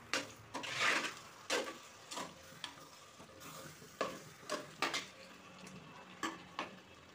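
A spoon stirring lemon pickle in hot sesame oil with asafoetida, quiet scraping strokes against the pan in an irregular rhythm, about a dozen separate stirs over a soft sizzle.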